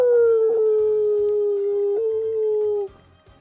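A human voice imitates a wolf howl, one long sustained steady note held for almost three seconds, loud and close, then breaking off into quiet background game sounds.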